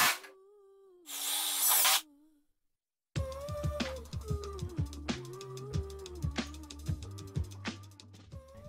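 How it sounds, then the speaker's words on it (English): A power drill drives screws into insulation panels fixed over drywall, with a short loud whir, a pause, then repeated quieter motor bursts and clicks over a low hum. "Okay, now put a screw in, like the two panels in the corner."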